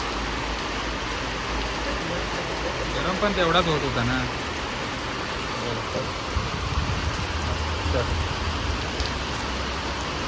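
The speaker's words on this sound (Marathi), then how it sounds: "रात्रभर पाऊस आहे." Steady rain falls at night across a rural Konkan setting, a dense continuous hiss that stays loud throughout, with someone talking briefly over it.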